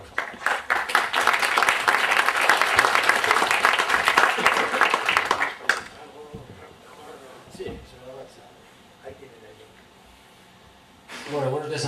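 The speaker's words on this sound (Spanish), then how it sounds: "Un aplauso." Audience applause at the Getxoblog 2014 blogging forum, a strong burst of clapping for about five seconds that stops abruptly, followed by quieter room sounds and someone speaking, with a brief swell of noise at the end.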